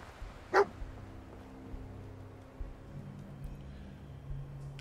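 Dogmeat, the dog companion in the video game Fallout 4, lets out a single short, fairly loud bark early on, then only low game ambience hum continues.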